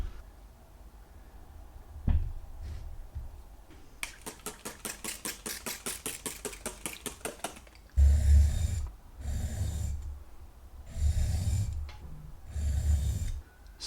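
Small steel chisels are rubbed on a diamond stone. A rapid run of rhythmic strokes comes first, followed by several longer separate scraping passes with pauses between them.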